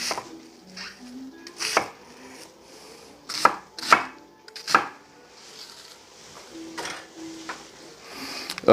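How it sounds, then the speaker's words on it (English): A knife chops leeks coarsely on a board, with clear, irregular close knocks, several spaced singles and a tighter cluster in the middle, plus faint light scraping between strikes. "I'm going to chop up fairly coarsely"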